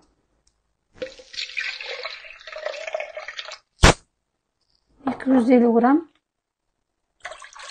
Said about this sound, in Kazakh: таза су қосамын